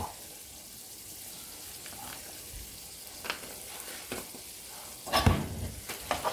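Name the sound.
stirring fideo with ground beef in a pan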